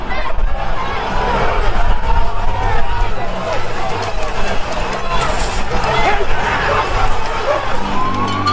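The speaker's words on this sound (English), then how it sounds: "What you've just witnessed is the crowd of thousands overwhelming police." A dense crowd of thousands of anti-lockdown protesters in Melbourne surges against police, a loud continuous babble of shouting and scuffling close by, with individual voices rising and falling through the churn.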